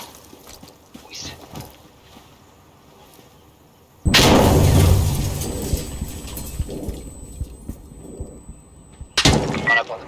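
A grenade blast in Insurgency Sandstorm erupts suddenly as a loud, close explosion with a long roaring decay, followed by a sharp burst of gunfire near the end over quiet background.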